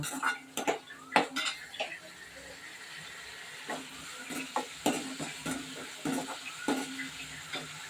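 Food sautés in a pan as ginger and garlic go in for a quick chicken fry: a faint hissing sizzle under repeated close metallic clinks and scrapes of a spoon against cookware.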